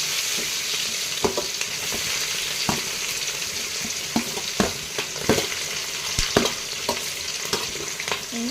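Sliced onions sizzle steadily in hot oil in a pan for baghara rice, a continuous frying hiss broken by several sharp scrapes and clinks of a stirring spoon; no talking.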